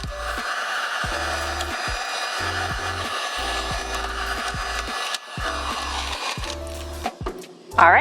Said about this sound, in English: get your heat gun, and shrink it up